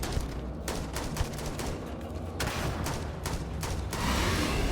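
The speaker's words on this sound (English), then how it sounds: "This gun is way," Weapon fire from a gun in the video game Starfield, dense, continuous volleys of shots layered over game noise and music, steady and fairly loud throughout.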